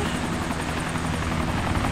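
Helicopter in the military shooter game ARMA 2, a steady loud rotor thump with a dense engine roar running without break, no talk over it.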